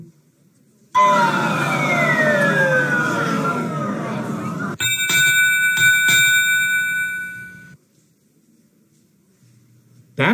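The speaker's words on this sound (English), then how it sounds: "That sound means final spin." Final spin cue in the Wheel of Fortune PC game: a loud descending whooshing siren-like sweep, then a bright sustained bell chime with two quick repeated strikes, ending abruptly into near silence.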